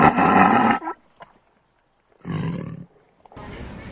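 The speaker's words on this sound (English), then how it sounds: "the home of the famous Royal Bengal Tiger" A Royal Bengal Tiger in the Sundarban delta forest roars close and loud, giving three deep, rough bursts separated by silent gaps.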